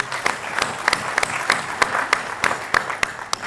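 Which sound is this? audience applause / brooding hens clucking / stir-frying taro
audience applause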